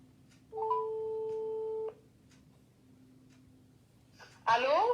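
A ringback tone sounds on a phone call placed during a live election-special broadcast: one steady, fairly loud tone lasting over a second, followed by quiet line hiss and then a brief, busy burst of sound at the end.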